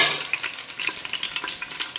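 Mustard seeds, cumin, curry leaves, cinnamon, cardamom and cloves crackle and sizzle in hot oil for a tempering, with sharp popping bursts over a continuous frying hiss and no talking.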